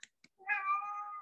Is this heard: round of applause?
no